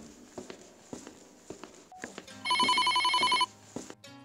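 Telephone ringing in a Gacha Club animated horror story: one electronic trilling ring burst of about a second, following a series of light footsteps, with more steps afterward.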